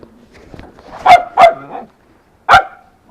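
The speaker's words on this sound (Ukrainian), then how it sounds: "Що ти гавкаєш?" A dog barks three times, loud and close, two quick barks then a third after a pause, with faint background noise between.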